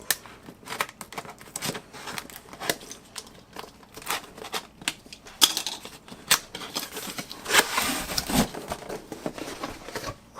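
Box cutter or blade slicing through the packaging of a SmallRig RC 100B COB video light box, a run of quick scratchy cuts and tape-tearing crackles, close and moderately loud, with no talking.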